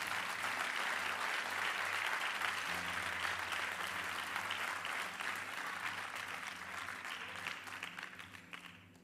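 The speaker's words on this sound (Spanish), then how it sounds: "Dele un fuerte aplauso a Cristo." A church youth-service congregation gives a strong, sustained round of applause, dense clapping that holds steady then gradually thins and fades toward the end, with a low musical hum underneath.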